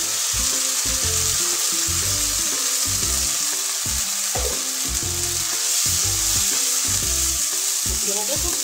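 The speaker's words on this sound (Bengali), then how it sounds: "রসুনটা ভাজা হয়ে গেছে, কচু বাটাটা দিয়ে দিই।" Taro paste sizzles and spits in a pan of hot oil with fried garlic, a loud continuous frying hiss over rhythmic scraping and stirring strokes close by.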